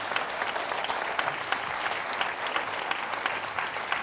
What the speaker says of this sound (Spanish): Y te vas a llevar un aplauso como mínimo como este.